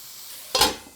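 Water splashes into a hot skillet beside a frying burger patty, bursting into a sudden loud hiss that fades over a moment.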